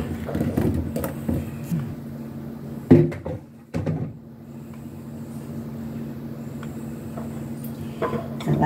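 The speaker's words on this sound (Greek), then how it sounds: "Θα βάλουμε τις πατατούλες μας μέσα" Potatoes go into a clay roasting pot (gastra) for rabbit with vegetables, making a few dull knocks and clunks amid low kitchen hum, with a voice talking over them.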